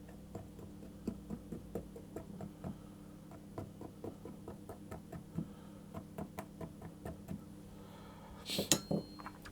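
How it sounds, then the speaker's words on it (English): A fork pricks a pastry tart base in a metal tin, making a steady series of close, light knocking clicks about one every half second, with a sharper metallic clatter near the end and no talk. "I'm going to take a fork and I'm going to prick the base with a fork"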